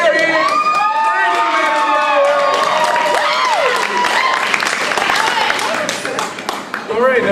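Cheering and applause from an improv show crowd, loud clapping under whoops and shrieking voices, the noise holding strong before tapering toward the end.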